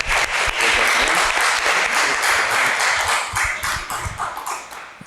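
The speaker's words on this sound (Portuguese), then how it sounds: "Mais uma vez, uma salva de palmas." Council members and attendees at a municipal council session give a loud, close burst of clapping that fills the room evenly, then gradually fades out over the last second or so.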